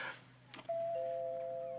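A doorbell rings in a home, a clear two-tone chime that sustains and fades slowly after a soft click, alone in an otherwise quiet room.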